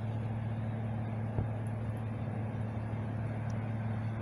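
A truck drives by on a highway near Canyonville, its low engine drone continuous and moderately loud, with a brief thump partway through and no talking.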